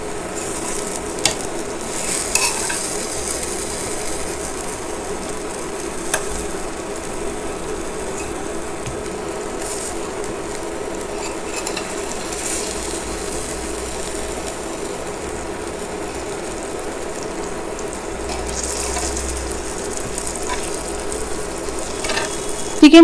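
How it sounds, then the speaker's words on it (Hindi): Marinated chicken tikka pieces frying in a pan, a continuous even sizzle with occasional faint clicks and scrapes, moderately close and without talk. "बाकी का भी ऐसे ही फ्राई कर लेंगे।"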